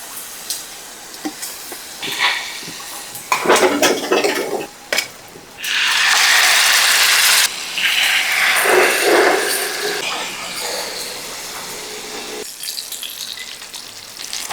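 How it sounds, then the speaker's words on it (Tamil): Fish sizzling and spitting in hot oil in a pan as pieces are turned to fry the second side, with loud bursts of frying hiss rising and falling, close by and without speech. "இப்போ அடுத்த சைடை கொஞ்சம் ஃப்ரை பண்ணிக்கிறோம்."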